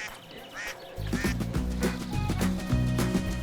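Several ducks quack repeatedly and loudly nearby, a busy overlapping chorus of nasal calls with no talking.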